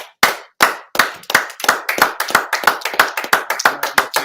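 One person claps hands at a Sabbath service, a close, loud series of sharp claps, a few spaced at first and then speeding into a quick, steady rhythm.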